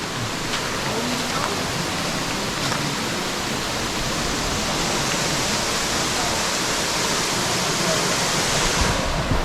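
Blue Basin Waterfall in Diego Martin, Trinidad and Tobago, pours as a steady, dense broadband rush of falling water, constant and fairly loud with no voices.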